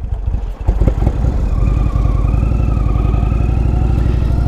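Indian Dark Horse motorcycle engine running loud and close while riding, a steady deep pulsing drone with a brief rev near the start, heard alone.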